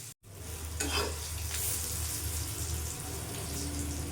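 Eggplant pieces frying in oil in a pan for a hilsa fish and eggplant curry, giving a steady close hiss and sizzle with faint stirring scrapes. No voices are heard.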